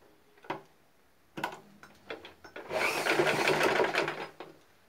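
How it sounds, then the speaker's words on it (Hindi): A sewing machine stitches around the corner of a fabric piece in short bursts: a few isolated clicks, then a longer run of fast rattling stitches, fairly quiet and close. "ये यहाँ पूरे कॉर्नर में ऐसे सिलाई लगाना है बिल्कुल यहाँ पर"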